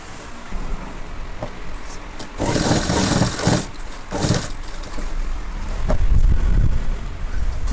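A sewing machine stitches a folded half-inch edge on a uniform pinafore skirt, running in close, uneven bursts of rapid mechanical whirring with short pauses between.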